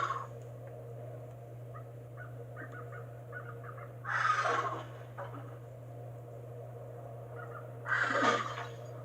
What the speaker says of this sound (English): the angry eagle parent should swoop in and throw off his axe timing